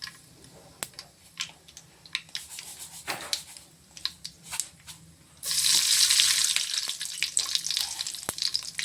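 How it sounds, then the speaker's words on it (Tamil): Mustard seeds dropped into hot oil in a wide pot, starting with scattered sharp crackles and pops, then breaking into a dense, loud sizzling spatter. "நம்ம அகலமான பாத்திரமாக எடுத்து எண்ணெய் ஊற்றி வச்சுருக்கோம். இப்போ பருப்பு உருண்டை குழம்புக்கு கொஞ்சம் கடுகு போட்டுக்கிறோம்"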